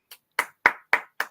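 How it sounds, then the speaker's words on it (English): Five sharp, close hand claps for Philly, spaced evenly about a quarter second apart, the first softer and the rest crisp and loud, with silence between them. "regular season round of applause"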